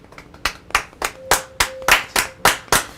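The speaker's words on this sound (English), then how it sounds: "Stop clapping! Stop it!" Close by, people at a tabletop role-playing game session clap in a steady, even rhythm of about ten sharp claps, with no talking over them.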